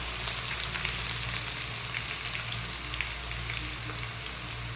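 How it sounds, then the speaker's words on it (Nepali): Garlic and ginger frying in oil in a pan for chicken curry, a steady dense sizzle with faint crackles throughout and no talking. "लसुन प्लस अदुवाको सबै हालेर हामीले पकाउँछौँ।"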